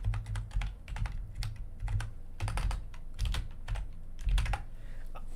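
Someone types quickly on a computer keyboard during a Super Mario World session, with bursts of soft clicking keystrokes close by. The keystrokes come in irregular clusters with short gaps between them.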